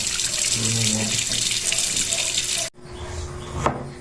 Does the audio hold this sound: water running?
yes